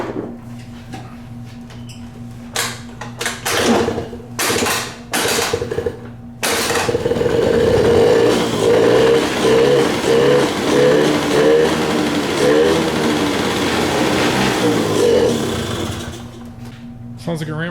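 Several clicks and knocks, then a Honda Aero 50 scooter's small 50cc engine catches on a shot of starting fluid and buzzes loudly for several seconds before dying back down, with speech around it.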